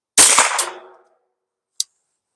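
A single close, loud gunshot fired at a Sput target on a shooting range, a sharp crack with a quick decaying tail, followed about a second later by a short faint tick of impact.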